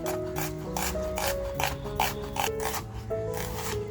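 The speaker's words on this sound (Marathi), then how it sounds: "आता हा कांदा आहे ना तो असं आपल्याला पातळसर पण अगदी बारीक कापून घ्यायचा आहे" A knife slices an onion finely on a board, making a quick, even run of crisp cutting strokes close by, with a faint tonal background underneath.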